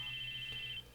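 A mobile phone rings in a classroom in the video game Chaos;Head Noah, a bright, steady electronic tone holding for most of a second before cutting off abruptly.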